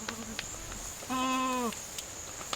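Meat goats in a barn, one clear, drawn-out bleat rising in the middle, with fainter animal sounds and a steady high insect-like whine in the background.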